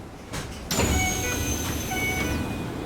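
A Keisei Line local train pulls into Usui Station with a rising rumble and a sustained high metallic squeal of brakes that slowly fades as it slows.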